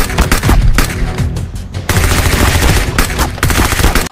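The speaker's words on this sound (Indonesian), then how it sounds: "Yang ini mainan tembak-tembakan." Rapid bursts of toy gun fire crackle loudly and continuously, with several short pauses between volleys and no talking.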